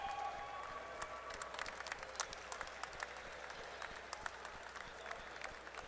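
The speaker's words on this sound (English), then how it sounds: "feel free to give them a round of applause if you'd like" An audience at an evening event applauds the basket maker and ball maker, a faint, fairly distant patter of clapping with scattered sharper claps throughout.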